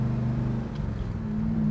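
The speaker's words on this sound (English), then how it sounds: "listen to that awesome exhaust, going through the gears" Throaty exhaust of a 1966 Pontiac GTO convertible pulling steadily as it accelerates, a loud continuous low rumble that holds through the whole stretch with no talking.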